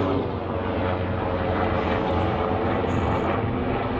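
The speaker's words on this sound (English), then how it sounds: "That was the fire department with their chopper" A fire department helicopter passes overhead, a steady, loud broadband rotor-and-engine roar that fills the whole stretch without fading, with no one talking.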